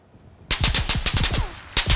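Rapid bursts of automatic gunfire in the video game PUBG (Battlegrounds), a close, loud string of evenly spaced shots after a quiet start, with a short pause and another burst.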